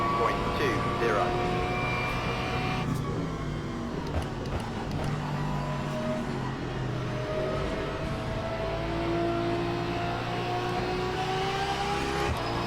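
A race car engine in a racing sim video game, a steady high drone with rising and falling pitch as the car works through gears while lapping, sitting under a faint background.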